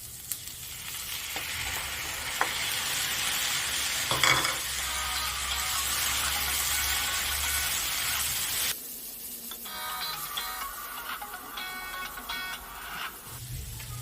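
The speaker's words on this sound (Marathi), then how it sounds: "आता ह्याच्यामध्ये मी घालते टोमॅटो आणि टोमॅटो आपल्याला साधारण मऊ होईपर्यंत आपल्याला ते शिजवायचे आहेत" Tomatoes cook and are stirred in a pan for spot idli, giving a steady sizzle with occasional scrapes. Partway through it drops to a quieter, softer sizzle with faint tonal beeps.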